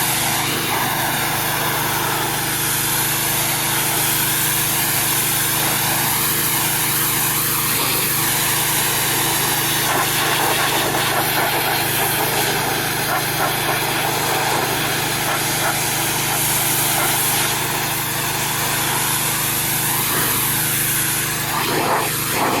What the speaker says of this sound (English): This is just what pressure washers do,